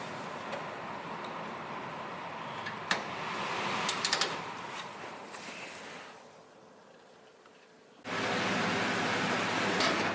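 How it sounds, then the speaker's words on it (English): An IQAir air purifier fan runs on its medium setting with a steady, fairly loud broadband whoosh. It dips quieter for a couple of seconds, then surges back louder near the end, with a few faint ticks on top. "You can hear the IQ Air is a little bit quieter, but not by much"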